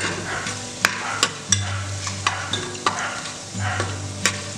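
Whole spices including cloves, cinnamon, cumin, cardamom and bay leaves fry in oil in a pressure cooker, with a soft sizzle under repeated sharp clinks of a spoon stirring against the metal pot.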